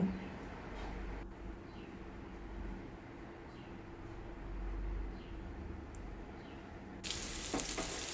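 Potatoes frying in a pan give a steady, fairly faint sizzle with low crackling throughout, joined near the end by a louder, brighter burst of spitting oil.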